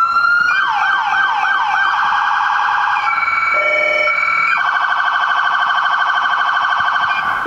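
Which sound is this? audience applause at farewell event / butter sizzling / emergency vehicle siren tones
emergency vehicle siren tones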